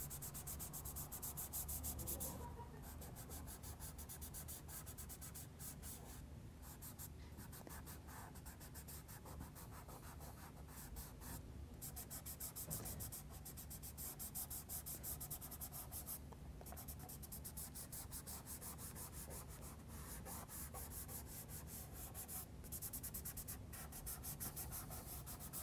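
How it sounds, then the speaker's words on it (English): A fingertip smudges Derwent XL graphite across paper in a soft, steady rubbing, with repeated strokes and brief pauses over a quiet background. "So I use a finger here and just start smudging these background colour in."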